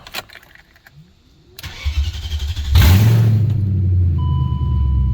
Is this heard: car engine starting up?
yes